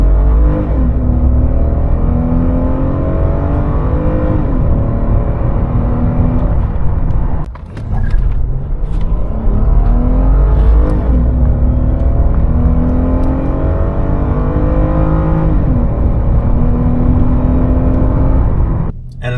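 A Lexus IS250, eleven years old and rear-wheel drive, accelerates hard from standstill to 100 on loose pea gravel, its engine note climbing steadily through the gears with a brief drop at a shift, loud and close throughout.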